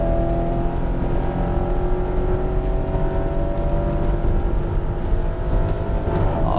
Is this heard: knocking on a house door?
no